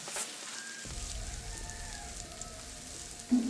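Onion, beans and carrot sautéing together in a pan make a steady soft sizzle with light crackle, near and continuous, with a brief stir or clatter near the end.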